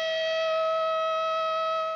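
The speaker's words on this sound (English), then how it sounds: "It goes off with an alert or a siren that will activate for about 5 seconds to get your attention." A civil defense tornado warning siren sounds a loud, steady, sustained tone that holds level for the full two seconds.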